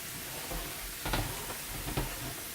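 Onions and mushrooms caramelize in a pan with a steady, close sizzle, broken by a couple of brief louder spatters or stirs.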